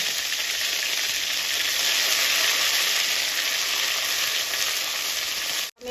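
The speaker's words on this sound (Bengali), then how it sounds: "তেল আমার গরম হয়ে গেছে। এবার আমি জিরে দেবো ফোড়নে।" Cumin seeds and homemade spice mix dropped into hot oil for tempering, a loud steady sizzle and crackle that holds evenly throughout before cutting off abruptly at the end, no talking.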